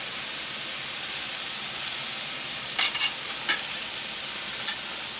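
Bison meat sizzles in a pan, a steady bright frying hiss close by, with a few small pops and crackles and no talking.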